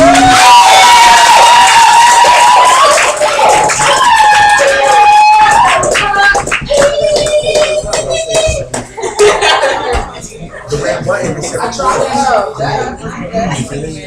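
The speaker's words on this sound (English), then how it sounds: "So now we're gonna welcome to the stage with a warm round of applause." Crowd at an open mic poetry night cheering and applauding to welcome a performer to the stage, loud and sustained at first, then thinning out as scattered claps and whoops continue.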